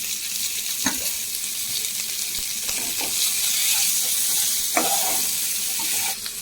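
Onions frying in oil in a village kitchen, a loud continuous close sizzle with occasional utensil knocks and scraping stirs.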